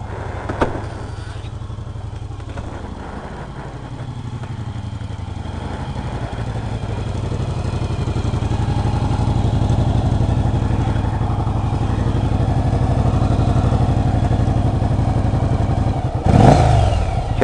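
A 1997 Virago motorcycle rides at night, its engine a steady low drone that climbs slightly in pitch and loudness as it accelerates, with a brief clatter near the end.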